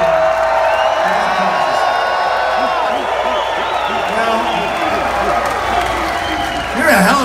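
Rally crowd at a Donald Trump event cheering, whooping and applauding in a steady, loud roar, with voices rising in a brief swell near the end.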